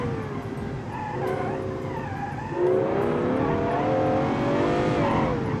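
Pickup truck engine in BeamNG.Drive revving hard through quick dual-clutch gear changes, pitch climbing and dropping with each shift, loud and continuous, with a brief tire squeal.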